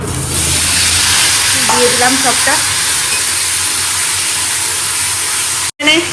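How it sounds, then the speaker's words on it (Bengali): Loud, close sizzling of potatoes frying in oil, a constant hiss with a few faint tonal clinks, cut by a brief dropout near the end. "এখন আলুটা ভাজবো"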